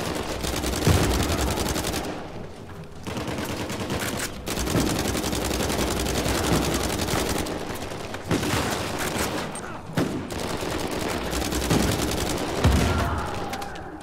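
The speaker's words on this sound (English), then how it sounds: "Let's throw a grenade this time." A thrown grenade explodes amid loud, sustained gunfire in the action game Uncharted 4, with dense shooting throughout and several sharp bursts standing out.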